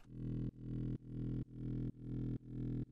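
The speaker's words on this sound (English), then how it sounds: "I made this one on Sylenth, sound uh, like this." A Sylenth-made mid bass synth, processed with OTT, pulses six times in an even rhythm, each note swelling in and cutting off sharply, loud, dry and alone.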